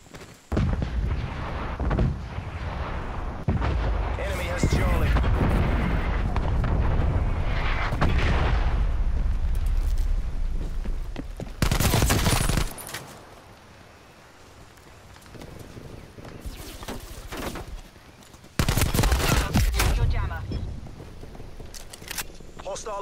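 Heavy artillery fire and explosions in Call of Duty: Black Ops Cold War, with loud bursts arriving in separate waves over a constant roar of battle. Radio-style voice chatter plays underneath.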